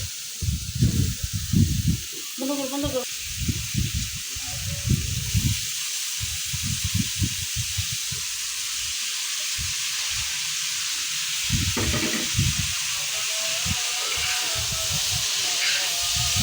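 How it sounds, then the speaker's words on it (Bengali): Crushed pointed gourd (potol) frying with spices in oil, a constant hissing sizzle with repeated low stirring scrapes and clanks throughout. "সেই যে পটলটাকে মশলার সাথে ভেজে নিচ্ছি"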